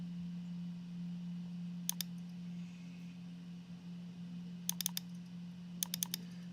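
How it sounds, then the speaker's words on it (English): Computer keyboard keys tapped in three short bursts of crisp clicks over a steady electrical hum, fairly quiet and with no voice. "as you see right here when I'm writing in the date"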